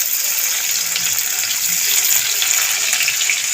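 Chopped onion drops into hot oil for dal fry and sizzles loudly as a dense, steady hiss throughout, close and uninterrupted with no talk.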